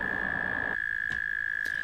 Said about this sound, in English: A group of American toads begin taking part in their breeding season.